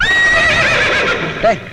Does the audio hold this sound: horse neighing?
yes